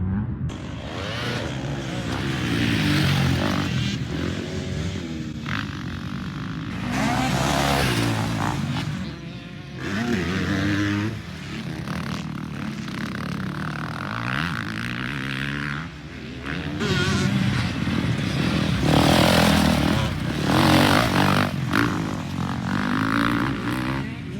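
A dirt bike is ridden without using the clutch, its engine revving up and down in repeated rising and falling sweeps, loud and close, with wind noise throughout.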